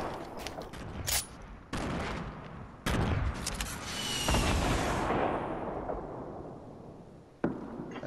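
Gunfire in the Fortnite video game, including a P90, rings out as several sharp bursts and rapid volleys, loud and close, with a sustained rolling stretch of fire.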